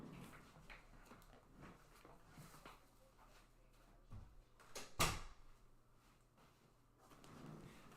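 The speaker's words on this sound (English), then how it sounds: "let me close this door real quick." A room door closes with a single sharp thud, quiet and somewhat distant, preceded by faint shuffling in an otherwise hushed indoor space.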